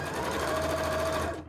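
A sewing machine runs in one steady, close burst of rapid stitching, loud and even, before stopping abruptly.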